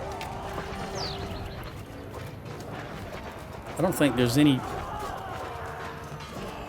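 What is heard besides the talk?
horse running off, hooves clopping, video game Mount & Blade II Bannerlord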